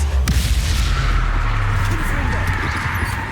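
A spell cast with a burst in the Hogwarts Legacy video game, a dense booming whoosh over low rumbling ambience that holds steady throughout.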